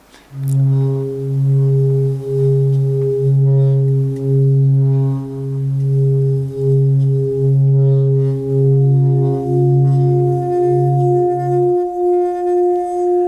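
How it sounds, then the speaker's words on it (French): A sustained, gently pulsing metallic tone with layered overtones rings on for over ten seconds, soft and smooth, from a Tibetan singing bowl being circled. "c'est le son d'un bol tibétain, très doux, très agréable"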